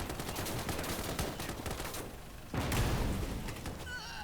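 Heavy gunfire and blasts rumble through a Gates of Hell Finland campaign battle, with a louder cannon-like boom striking midway, dense and continuous in the background.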